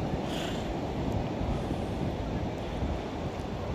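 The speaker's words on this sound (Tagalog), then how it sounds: "Laki ng alon, no?" Big ocean waves surge and roar in a continuous wash of surf, mixed with heavy wind buffeting the microphone from a moving boat at sea.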